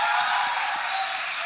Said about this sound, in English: Yes, guys, please, a round of applause.